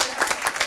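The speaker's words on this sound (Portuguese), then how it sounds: "Palmas." An audience claps at a round-table discussion on work-related mental health in health services, a short burst of steady, fairly close applause with no voices over it.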